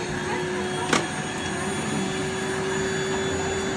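A Rainbow vacuum cleaner runs with a steady, loud motor whine and airy drone throughout, with a single brief click partway through.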